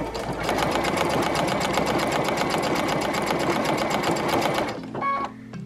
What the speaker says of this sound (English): every time that I take my foot off of the presser, it keeps the needle down in and it lifts the foot up